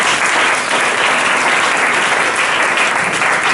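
Church congregation applauding during a Pentecost service, a dense, loud, sustained burst of clapping from a large crowd with no break.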